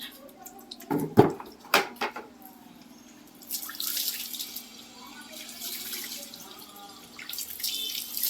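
Water being poured over a stray dog during a bath, with splashing and dripping bursts that come and go. Someone speaks nearby in the background.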